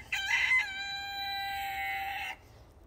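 A rooster gives one loud, clear crow, drawn out for about two seconds, in a backyard flock of chickens kept alongside a turkey. The crow stops abruptly into quiet outdoor background.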